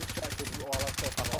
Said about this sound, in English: I put a sniper bullet into him